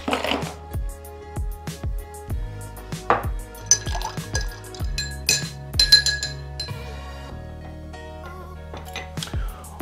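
Ice and water are emptied from a chilled cocktail glass while a Bloody Mary is made, heard as close, bright clinking of ice cubes against glass in scattered knocks, followed by a gentle rattle and soft settling.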